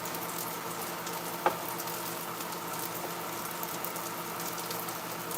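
Creole sausages sizzling in a nonstick grill pan with butter and oil, a steady close crackling fry with one brief clink partway through, no talking.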